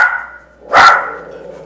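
A single sharp dog bark rings out close and loud indoors, with a faint whine or hum before it and a short fading tail after.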